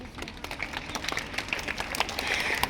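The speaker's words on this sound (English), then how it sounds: "Please clap for the Alpesh Arya." Audience clapping for a kindergarten rank holder at a school result distribution day, a moderate crowd of hands patting unevenly and fairly softly, swelling a little toward the end.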